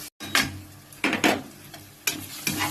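Chicken, onions and tomatoes with ginger garlic paste being sautéed for chicken biryani, with bursts of spoon-stirring scrapes and soft sizzling in a pan, close and moderately loud, with no talking.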